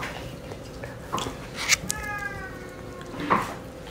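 A cat gives a couple of short, close meows during an Indonesian livestream, with faint background noise and little else around it.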